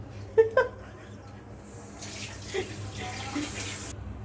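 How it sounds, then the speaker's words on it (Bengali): Rice and lentils being rinsed together in water, with a splashing and swishing wash from the middle of the clip onward after a couple of brief knocks at the start. "চাল আর পরিমাণ মতো ডাল নিয়ে মিক্স করে ধুয়ে নিলাম"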